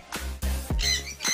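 Birds kept indoors in an aviary give a few harsh, loud squawks in quick succession, close by, with no voices.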